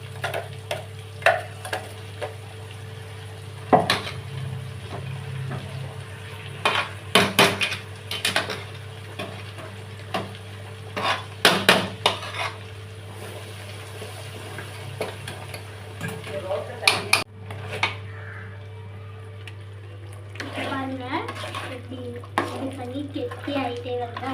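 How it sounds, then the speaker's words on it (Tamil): Pirandai thokku is stirred in a cooking pan, with repeated scraping and clattering strokes of a spoon against the pan over a steady low hum and faint sizzle, spaced irregularly across the stretch. "ஃபுல்லாக கிண்டிக்கிட்டே இருக்கணும்"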